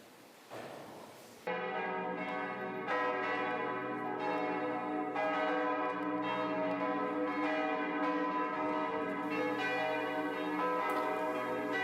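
Several large bells of Bamberg Cathedral peal together in a sustained, overlapping ring, loud and resonant, after a brief softer noise at the start.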